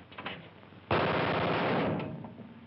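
A burst of rapid machine-gun-like gunfire in an old war film about Marines, erupting loudly after a quieter stretch, sustained for about a second before fading into background noise.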